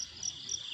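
Crickets chirp in a brief burst of high, pulsing trills, faint and steady.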